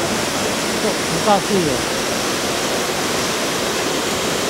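The waterfall at Niaotakeng in Nantou makes a dense, steady roar that fills the scene throughout, with a brief voice speaking over it partway through.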